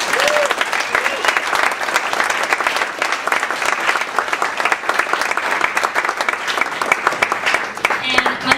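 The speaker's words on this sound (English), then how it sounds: "we should just give them all a big round of applause." Loud, sustained applause from a school cabaret audience honoring the music parents, dense clapping throughout with a few voices near the end.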